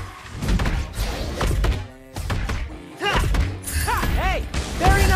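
A kick of the ball by the hero Bruno in the Mobile Legends game lands as several solid, close thunks, with game effects layered around them.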